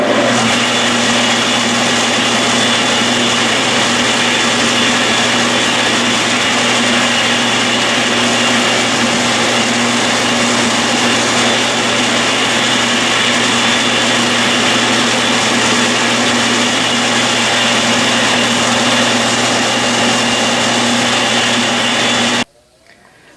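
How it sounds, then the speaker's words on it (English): A metal lathe turns down a copper commutator with a carbide cutting tool, giving a steady, loud machining whir and hum that runs unbroken for over twenty seconds before cutting off abruptly near the end. "Copper is often troublesome, but I'm just going to take it down with the carbide"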